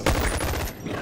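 Rapid gunfire rattles in the Boneworks VR video game, a close, loud burst of quick shots lasting under a second before cutting off.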